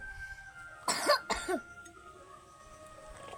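A child coughs twice in quick succession, close and fairly loud, in an otherwise quiet room.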